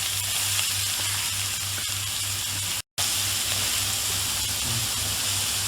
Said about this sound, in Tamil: இது நல்ல கோல்டன் ப்ரௌன் ஆகுறது வரைக்கும் நம்ம ஃப்ரை பண்ணுவோம்.